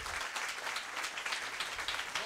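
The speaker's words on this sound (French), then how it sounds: "je vous demande d'applaudir Monsieur Serge Blumenzweig." A studio audience applauds the winner of a prize draw in a steady, even wash of clapping. The applause is fairly quiet and continues throughout without any speech.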